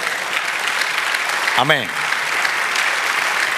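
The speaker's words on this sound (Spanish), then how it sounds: "Denle un aplauso al Señor." Congregation applause fills a church service, steady and dense throughout, with a brief spoken word from a voice rising over the clapping midway.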